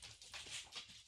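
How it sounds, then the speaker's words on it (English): A dog whimpers and whines in short, soft, high-pitched bursts, close by and fairly quiet, with no talking. "kick out the dog that's making all the noise"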